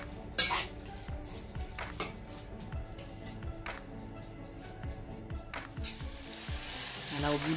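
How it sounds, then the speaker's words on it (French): Onions frying in hot oil in a pan, a constant close sizzle under sharp clinks and scrapes of a utensil stirring against the pan, without speech. "Vous ajoutez les oignons dans cette huile chaude et vous laissez fondre."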